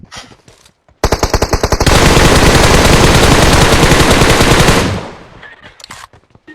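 Video game gunfire: a loud, close burst of rapid automatic fire, first distinct shots then a sustained stream lasting several seconds before cutting off, with no talk over it.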